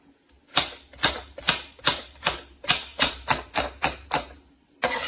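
A knife chops the ends off carrots on a cutting board in about a dozen sharp, evenly spaced knocks, close and crisp with a pause before the last cut.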